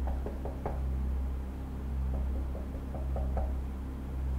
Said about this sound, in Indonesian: Mereka kebangun gara-gara ada yang ngetok-ngetok pintu.